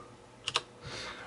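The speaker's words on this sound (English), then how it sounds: "As you can see, I was just typing away." A couple of quick key taps on a computer keyboard, two close sharp clicks followed by a soft brushing noise, brief and fairly quiet in an otherwise still room.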